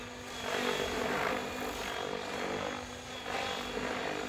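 RC helicopter hovering during piro tic toc practice, a steady buzzing rotor and motor whine that swells and fades in slow waves, moderately close and alone without talk.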